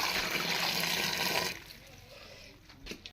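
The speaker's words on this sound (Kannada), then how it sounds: "ಇದು ಇವಾಗ ಮೂರನೇ ರೌಂಡ್ ವಾಶ್ ಮಾಡ್ತಾ ಇದ್ದೀನಿ" Dried chillies get a third rinse in water, with close splashing and sloshing for about a second and a half, then softer trickles and faint handling sounds.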